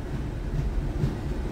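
Inside a train cab, a continuous low rumble and hum carries through with mild swells and no distinct breaks. No voices.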